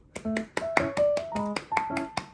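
A quick run of sharp claps, about ten in a loose rhythm, close and bright, with a few tones ringing beneath them.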